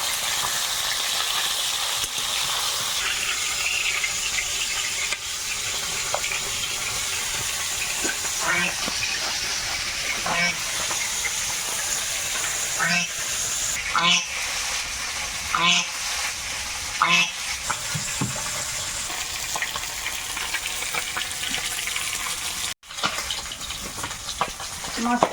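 Homemade lentil dumplings (bori) fry in a home-kitchen pan with a steady, close, dense sizzle and hiss, occasional stirring clatter, and faint voices in the background.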